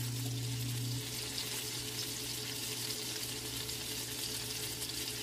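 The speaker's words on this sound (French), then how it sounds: "Oui, c'est juste de blanchir la viande." A beef rosette searing in a hot pan gives a steady, even hiss of frying that runs without a break over a low background hum, quiet and close, with no one speaking.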